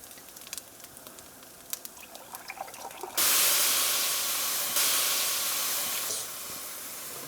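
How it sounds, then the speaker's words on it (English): Whole milk pours into a hot pan of browned sausage and flour gravy, setting off a sudden loud steady sizzle and hiss after a few quiet clicks, with a second surge midway before it fades slightly. "now we're gonna add whole milk"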